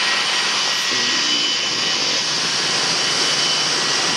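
Steady broadband roar of a jet airplane engine in a video game, constant and loud throughout with no voices.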